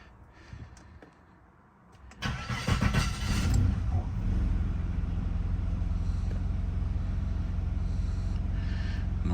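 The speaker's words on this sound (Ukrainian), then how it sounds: "машина завелася" An Opel Vectra C, started after a long idle, cranks briefly with a few clicks and then catches, settling into a steady, close idle that hums on without pause.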